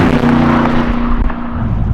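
A 650 hp supercharged 1963 Split Window C2 Corvette driving in freezing weather, heard from inside with the windows up. It makes a loud, steady engine drone, with a few sharp pops and thumps, and then eases slightly toward the end.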